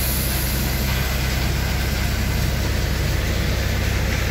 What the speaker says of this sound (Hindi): 2058 cc का इंजन आता है इसमें।